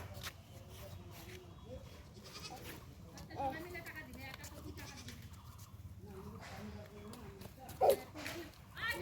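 A goat bleats a couple of times, short and fairly close, over a village lane where people keep talking throughout.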